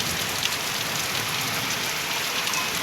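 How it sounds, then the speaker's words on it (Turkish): Steady rain in a strong wind pours down in a dense, hissing wash with scattered drops, with a gusty rushing quality underneath, continuous and fairly close, in a village. "yağmur yağıyor ama bir de rüzgarı da çok aşırı oldu"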